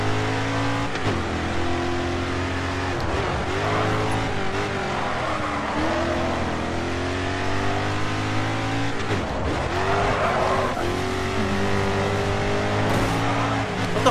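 Racing cars in the video game GRID 2 roar and rev continuously, with engine pitch sweeping up and down and bursts of tire squeal and skidding as cars leave the track, loud and close throughout.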